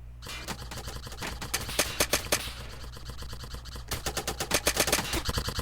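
Gunfire in the Airsoft Center video game, with rapid bursts of shots and single cracks, sharp and loud over a low steady hum, near and continuous through the clip.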